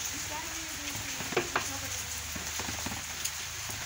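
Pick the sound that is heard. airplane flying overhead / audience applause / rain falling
rain falling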